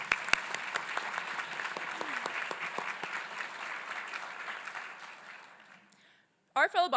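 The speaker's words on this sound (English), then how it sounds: "Can we get one more round of applause," Audience applause at a university leadership awards ceremony, a crowd clapping steadily with some sharp nearby claps, fading out toward the end before a brief burst of voices.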